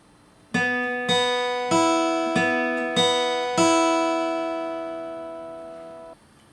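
Five plucked guitar notes ring out one after another at a steady pace, each sustaining and decaying, the last one held longer before stopping.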